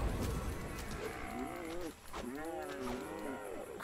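Cow mooing in The Bard's Tale video game, two long lowing calls with a brief gap between them, loud and close over a busy game soundscape.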